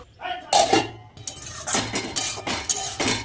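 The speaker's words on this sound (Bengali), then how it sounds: "এবার ঢাকা দিয়ে দেবো" A metal lid set onto a cooking pan holding a mustard-paste patauri with aubergine and beans, a few close clanks and clinks of metal on metal in quick succession.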